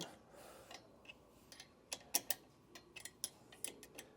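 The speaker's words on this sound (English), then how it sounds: "We're going to take our 1/2-inch wrench. We're going to loosen those up." Half-inch wrench working the bolts of a brake caliper on its mounting bracket, giving a quiet series of sharp ratcheting ticks and clicks in irregular bursts, close by with no talk.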